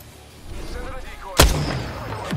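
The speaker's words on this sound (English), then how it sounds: "Airstrike coming in." A single sharp, loud blast hits in an Apex Legends match after a low rumble builds up, followed by a fading rumble and a smaller crack at the end.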